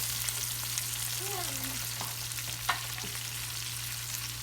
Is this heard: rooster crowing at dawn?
no